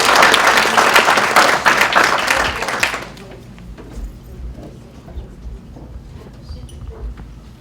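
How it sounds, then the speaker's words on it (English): Lecture audience applauding a speaker, loud and dense clapping for about three seconds that then quickly thins out, leaving quiet room noise with a few scattered claps and some shuffling. "Let's give a very warm round of applause to Paul Vasey."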